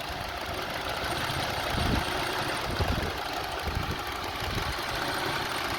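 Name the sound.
Honda CR-V engine shaking with a coil disconnected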